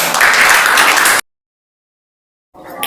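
Brief burst of clapping from a coaching class of students, loud and dense for about a second, then cut to silence before faint clapping resumes at the end.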